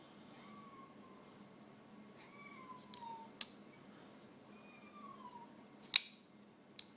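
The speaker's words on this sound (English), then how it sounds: "Oh, Kitty. She's old" An elderly cat about ten years old gives several soft, drawn-out meows indoors, faint and spaced apart over a low background hum, with a couple of sharp clicks.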